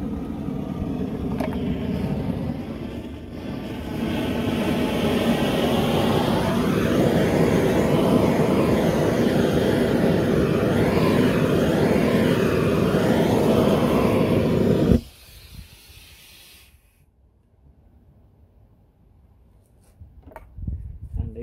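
A gas burner flame roars steadily and loudly beneath a copper boiler, with a wavering, pulsing quality in the middle, then cuts out abruptly as the flame blows itself out, leaving near silence with faint handling noises.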